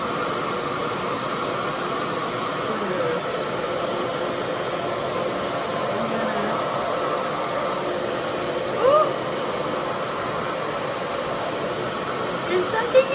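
A Revair hair dryer runs with a steady, loud airy roar that holds constant throughout, with a few faint clicks and handling noises near the end.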